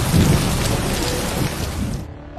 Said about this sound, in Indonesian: Tiba-tiba hujan besar turun.